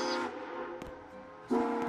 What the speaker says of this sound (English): There goes the train horning